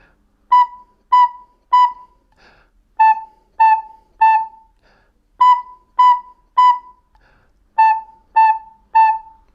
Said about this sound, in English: Let's play 3 B's, 3 A's, 3 B's, and then 3 A's